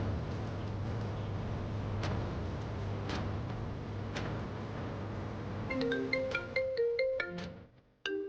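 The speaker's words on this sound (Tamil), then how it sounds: "உங்க ஃபோன்ல அடிக்குது." A mobile phone ringtone plays a repeating electronic melody, joining a low background hum and faint ticks before it cuts off abruptly.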